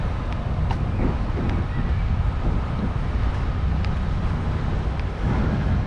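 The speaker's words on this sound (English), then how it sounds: "we've got a wind, a little breeze that was drying out even more." Wind buffets the microphone at the I-80 race track, a dry breeze on a hot evening, producing a steady, rough low rumble with soft gusting throughout and no voices.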